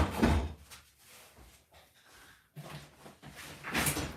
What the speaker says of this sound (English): Let me shut this door that my dog barged open.